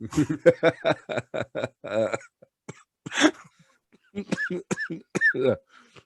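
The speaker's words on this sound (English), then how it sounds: "I can't even laugh without coughing." A few short, raspy coughs from allergies amid chuckling and talking, close to the listener.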